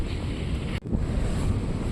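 Sea wind blowing at a beach on the Kerala–Tamil Nadu coast, a steady loud roar of gusts buffeting the microphone, briefly cut off for an instant before rushing back.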